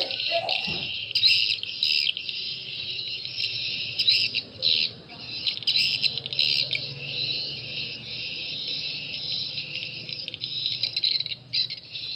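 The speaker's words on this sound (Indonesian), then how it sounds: "untuk SP kunci tani ini jenis DNA nya dia seperti suara walet asli" A recorded swiftlet lure call, SP Kunci Tani stereo, played through a speaker: dense, continuous high chirping and twittering with short breaks and a low hum underneath, sustained across the whole stretch.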